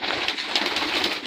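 A domestic pigeon coos softly in its loft, a faint, low murmur under a steady background hiss.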